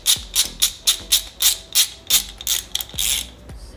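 A ratchet wrench clicks in about a dozen quick, even bursts while bolts are torqued down on a Subaru EJ207 engine, close and crisp with no voices.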